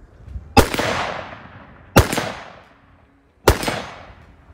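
Three loud gunshots fired at an outdoor shooting range, evenly spaced and each ringing out into a long decaying echo, with no talking.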